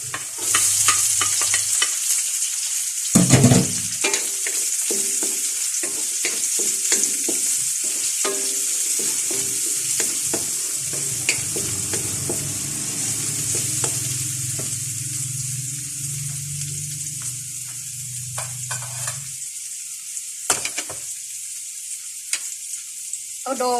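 Onions sautéing in plenty of oil in a pan for pancit bihon, a bright continuous sizzle with repeated stirring and scraping knocks near the start and end, loud and close.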